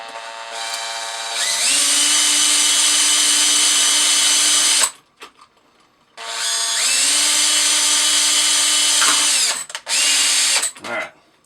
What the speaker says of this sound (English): Nice safe spot to drill.